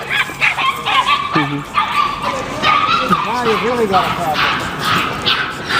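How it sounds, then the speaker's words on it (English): A small dog barks and yips sharply in quick bursts, with whimpers mixed in, during a scuffle with a larger dog, loud and close while someone talks over it. "That little dog is attacking the big dog."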